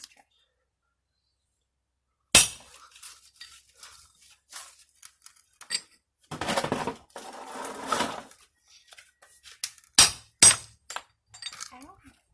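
A 2.5 pound hammer taps a front wheel bearing's inner race, giving a few sharp metallic strikes spaced irregularly, with bursts of clattering, scraping activity between them.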